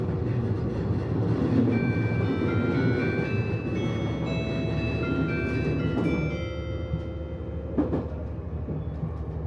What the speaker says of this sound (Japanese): 列車は徐々に標高を上げながら小バス停駅へと近づいていきます